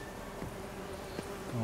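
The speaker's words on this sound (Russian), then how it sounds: "Пчелы у нас тут." Bees in The Witcher 3: Wild Hunt give off a faint, continuous insect buzz that hums steadily in the background with no talking over it.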